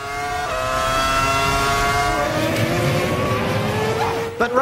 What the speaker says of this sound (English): But Ralph's braking catches out Villeneuve with horrendous consequences.